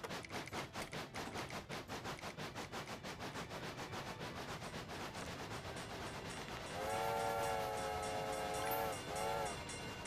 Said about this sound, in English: I will play around with the whistle quite frequently in this